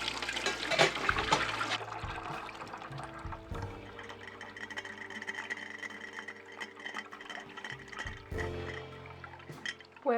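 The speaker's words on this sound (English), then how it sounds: "And now it's ready to be poured into bottles." Homemade blueberry and ginger kombucha pours and splashes into bottles in a continuous gurgling stream, with sloshing and the clink of glass, fairly close and loud.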